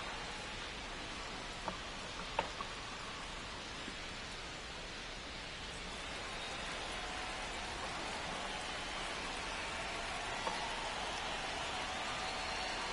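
Steady rain hisses over a baseball stadium crowd in a video game at the White Sox park, a constant even wash with a couple of faint ticks and no talk.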